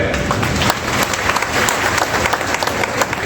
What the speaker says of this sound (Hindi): हम सब ताली बजाकर उनका हार्दिक अभिनंदन करते हैं, स्वागत करते हैं।